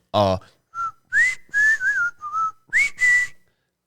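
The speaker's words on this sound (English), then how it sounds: "That was a good whistle." A person whistles a short tune of several sliding, steady notes in separate bursts, loud and close, with a brief voiced sound at the start.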